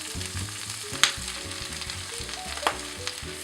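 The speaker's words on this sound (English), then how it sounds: "Sizzling, I'm going to add, this is the hard part of the greens. I'm going to add that first." Tough stem pieces of greens fry in a hot pan with garlic, a steady crackling sizzle broken by sharp clicks of stirring, fairly close and with no talk.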